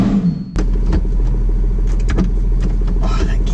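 A Lotus Exige Sport 380 fires up abruptly after a brief hush, its engine catching with a loud bark and then settling into a steady, close idle rumble while a voice speaks briefly.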